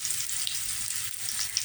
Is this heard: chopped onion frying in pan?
yes